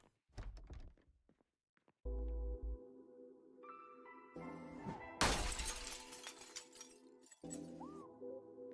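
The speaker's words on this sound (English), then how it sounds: "We broke that window and pulled the glass to make noise." Window glass breaking in the video game Project Zomboid: a heavy thunk, then a loud sharp shatter with tinkling shards, layered over droning game ambience and tones.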